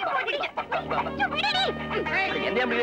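Chickens squawk and cluck frantically as they are chased and grabbed in a Tamil film comedy scene, loud overlapping calls in a busy rush, with voices mixed in.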